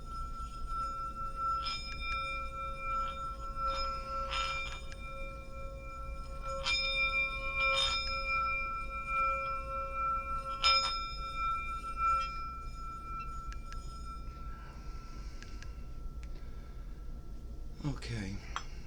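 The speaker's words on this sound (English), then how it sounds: "I'm going to see if I can get my bell to sing a little and call out." A small hand bell is struck several times in a loose rhythm, each ring leaving a clear tone that lingers and decays, close and fairly bright over a steady low background hum.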